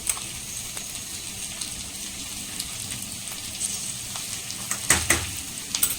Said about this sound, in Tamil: கொரன்னா நம்ம வந்து மிக்ஸ் பண்ணிக்கணும்